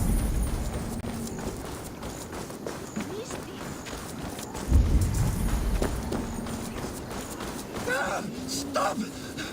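Hooves clip-clop in a quick running rhythm as a horse moves in Assassin's Creed Valhalla, with speech and other game sounds mixed in at moderate loudness.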